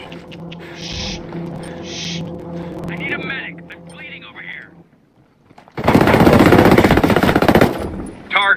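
In Tom Clancy's Ghost Recon Breakpoint, a long, loud burst of automatic gunfire rattles for about two seconds. Before it come game voices and chirping sounds, then a brief near-silence.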